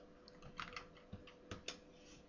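A search being typed on a computer keyboard: a quiet, irregular patter of key clicks, a handful of distinct taps with small pauses between them, close and alone.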